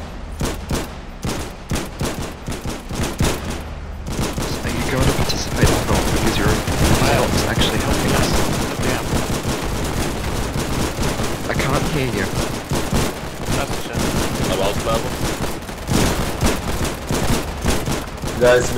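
Gunfire during a beach-landing attack in the war video game Foxhole, with dense, continuous rattling machine-gun fire and scattered sharp shots going on for the whole stretch, loud and close, with occasional voices underneath.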